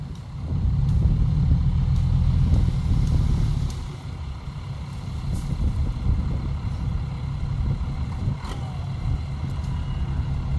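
Tractor engine idling outdoors, a low steady diesel rumble that runs continuously, heavier for the first few seconds and then settling into a softer drone.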